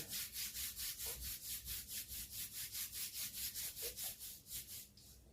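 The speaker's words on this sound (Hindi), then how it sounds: "दोनों हाथों से एक दूसरे को हथेलियों को रब करेंगे।" Both palms rubbed briskly together in a steady back-and-forth rhythm, a close, dry swishing friction repeated many times with no talking.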